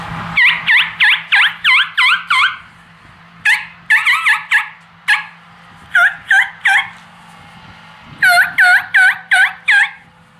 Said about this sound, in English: you hear him gobble like 80 yards.